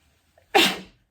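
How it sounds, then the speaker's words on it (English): A single loud sneeze bursts out close by after a faint intake of breath, then fades quickly into silence. "I'm going to sneeze"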